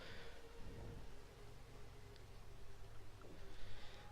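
Rain and thunder sound effect in an audio drama: a steady hiss of rainfall with a low rumbling swell underneath, continuous and moderately loud.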